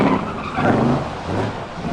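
A Curtis 5005 racing car powered by a 4-litre Cadillac V8 roars steadily as it laps the track, a dense, continuous engine rush with no voices.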